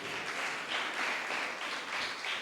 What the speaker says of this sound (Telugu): సరే చప్పట్లతో థాంక్స్ చెప్దాం